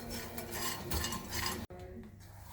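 Grated dry coconut lightly roasting in a pan, a steady close scraping and stirring rasp with faint metallic clinks, briefly cut off before continuing.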